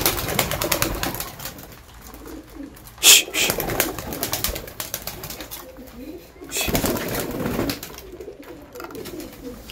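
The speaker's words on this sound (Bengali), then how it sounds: "এবার দেখুন বড় পায়রাগুলোকে খেতে দেবো, বিটার পায়রা।" Large beater pigeons coo while feeding, with low throaty calls recurring through the stretch, a sudden sharp flutter or knock near the start, and some faint background voices.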